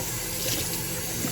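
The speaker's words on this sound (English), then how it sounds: "I'm going to use tap water like I'm not supposed to." Tap water runs in a steady, continuous stream during an aquarium water change, close and fairly loud, with no voices over it.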